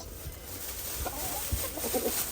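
Chickens feeding on kale, bread and apple pieces, with soft scattered clucks and pecking sounds close by over a low outdoor background.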